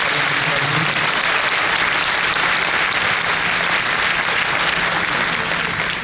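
A church congregation applauds steadily throughout, a dense continuous wash of clapping at fairly loud level with no pauses, during a religious talk on family and temptation.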